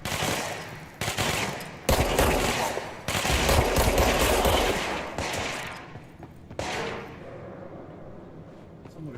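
Bursts of rapid automatic gunfire in the video game Control, loud sustained volleys separated by short gaps, with a final burst near the end fading into a quieter tail.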